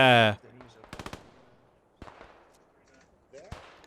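Mortar and small-arms fire in the Post Scriptum battlefield game: a loud blast opens, followed by bursts of rapid gunfire and scattered distant booms, with a voice talking briefly.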